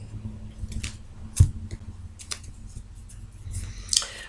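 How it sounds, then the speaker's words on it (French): Scissors snipping: a few crisp, short cuts spread unevenly, one sharper snip standing out, close and fairly quiet over a low background hum, with no talking. "Allez, je vais couper."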